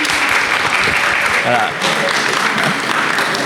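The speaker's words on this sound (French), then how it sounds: "je pense que vous devez l'applaudir." A seated audience at an event on genital infections breaks into loud, steady applause that runs throughout, while a voice speaks briefly over the clapping.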